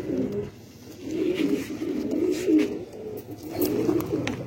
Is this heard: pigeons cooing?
yes